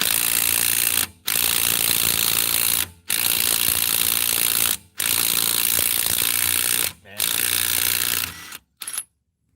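A Bauer 20V Hypermax 3/8-inch compact impact wrench hammers loudly on car lug nuts in four sustained, rattling bursts of one to two seconds each, separated by short pauses, with a brief final blip at the end.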